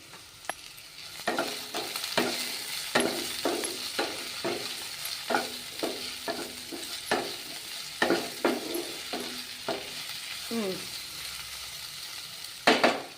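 Tomato dropped into a hot pan of frying ingredients, with a steady sizzle broken by repeated sharp stirring scrapes of a spoon against the pan, close and fairly quiet, no talking.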